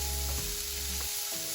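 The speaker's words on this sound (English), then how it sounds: "I'm going to let this cook down until the vegetables get soft" Vegetables for Cuban beef stew sizzle softly as they cook down in a pot, a faint, brief simmering with a couple of light stirring knocks.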